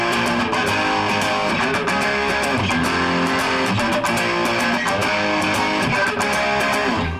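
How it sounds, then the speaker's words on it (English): Distorted electric guitar through an amplifier drive or effects pedal playing a riff, a dense, loud, sustained crunch of chords with rhythmic picking, close and without voices. "create this distorted sound like this."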